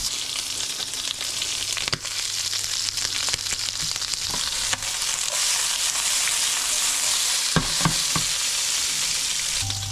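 Squid tossed in sauce in a pan over maximum heat gives a loud, steady sizzle and hiss, broken by scraping and clattering stirs throughout, with no talking.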